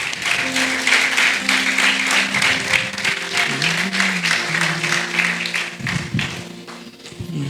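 Church congregation applauding during a sermon, a dense steady wash of clapping that fills the whole stretch, with a held sung or organ-like tone running underneath.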